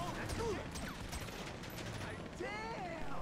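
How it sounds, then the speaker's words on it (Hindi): Gunfire in the video game GTA 5 plays as rapid bursts of shots mixed with mechanical clatter, faint and muffled under a busy background, with voices talking over the game sounds. "कहाँ से मेरे ऊपर कोई गोली चला रहा है"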